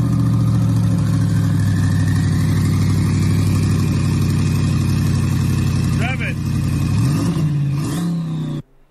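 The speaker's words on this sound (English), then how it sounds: "Rev it, Big J, rev it" Turbocharged C8 Corvette with open downpipes, its engine droning loud and steady up close for most of the stretch, with rising revs near the end before cutting off; voices talk over it.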